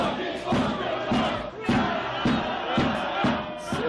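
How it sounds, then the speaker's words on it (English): A stadium football crowd at an Australia Cup match between Preston Lions and South Melbourne chants without pause. Loud, massed voices rise and fall in a steady rhythmic pulse of repeated shouts. "You just hear the crowd, they're going non-stop, making lots of noise"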